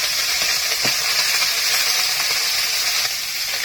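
Fish sizzling and frying in hot oil, a steady broadband crackle and hiss close by with a few brief pops, continuous and without speech.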